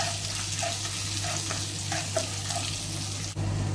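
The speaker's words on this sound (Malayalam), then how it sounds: "നന്നായിട്ട് വഴറ്റിയെടുക്കാം സവാള ഉള്ളി." Onions and green chillies sauté in a pan, with a steady sizzle and a few soft stirring scrapes, close and continuous, with no talking.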